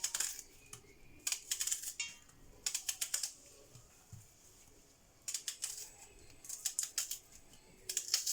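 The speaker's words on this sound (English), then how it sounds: "now I'm going to cut some onion" An onion is chopped with a knife on a cutting board in a home kitchen, making quick bursts of crisp, close taps in short rhythmic runs with brief pauses between them.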